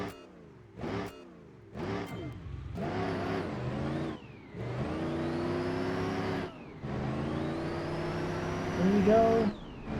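A nitrous-fed drag racing car accelerating on a run, engine revving upward through several gear changes, each pull rising in pitch then dropping, loud and close, with some talk over it.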